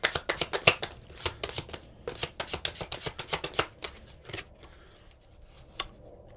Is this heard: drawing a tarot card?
yes